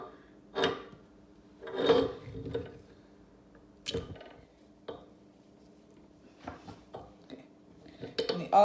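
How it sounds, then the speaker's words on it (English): Metal grinder plate and blade being taken off a meat grinder during venison processing, a few separate scraping, clinking metal handling sounds with quiet gaps between, close and fairly soft. "And the grinding plate comes off. After that is the blade."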